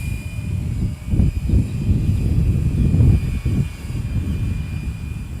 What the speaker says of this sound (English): this helicopter flies, just very smooth with this 3-axis gyro system on here